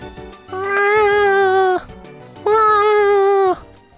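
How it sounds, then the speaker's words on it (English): Two long, loud yowling cat cries from two cats fighting, each drawn out over a second, separated by a short pause; close and harmonic, like cats caterwauling in a standoff. "These two crazy cats just fall down the stairs attacking each other."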